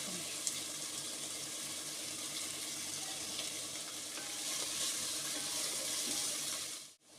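Sliced onions sautéing with a little salt in a pan for chicken gravy: a faint, even hiss of frying with soft stirring, running steadily before cutting off at the end.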